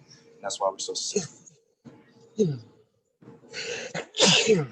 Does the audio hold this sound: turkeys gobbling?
no